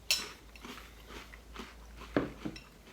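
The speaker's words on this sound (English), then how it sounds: "there's a lot of crunching in this episode" Churro cereal being chewed close up, with irregular crisp crunches and bites, a few sharper louder snaps standing out over a soft background.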